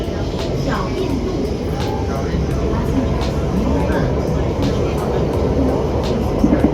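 A three-carriage driverless Bombardier train on Singapore's MRT line from Bukit Panjang to Expo rumbles steadily along the track, a loud continuous interior roar with faint clicks and station announcements layered over it.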